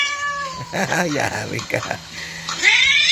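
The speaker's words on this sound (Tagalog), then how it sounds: "May namingit yung pusa." A cat meows and caterwauls in rising, whiny cries between and around people talking, the cries loud and close, with a strong drawn-out yowl at the end.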